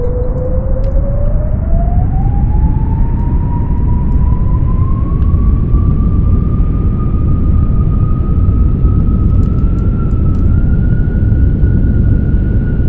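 Simulated F-35B jet engine during a vertical takeoff in the X-Plane 12 flight simulator game: a loud, steady roar with a whining tone that climbs in pitch over the first seconds and then holds high and sustained.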